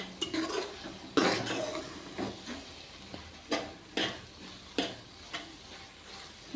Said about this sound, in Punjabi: ਇੱਕ ਦੋ ਮਿੰਟ ਲਈ ਇਹਨੂੰ ਇਸੇ ਤਰ੍ਹਾਂ ਲਗਾਤਾਰ ਹਿਲਾਵਾਂਗੇ